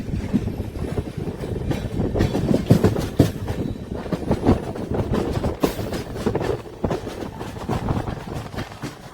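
The 22387 Black Diamond Express runs on the line near Barakar with a steady, loud rumble of wheels on rail and repeated clickety-clack beats, with no talk heard.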